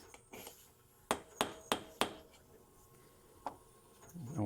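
Rivets being reseated on an Ambassadeur 4500CS fishing reel: a quick series of four sharp metallic taps in close succession near the middle, then one more single tap, all close and fairly quiet.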